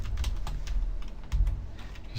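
Rapid, uneven keystrokes on a computer keyboard while writing GameMaker Studio code, a steady close clatter with a few heavier taps and no voices.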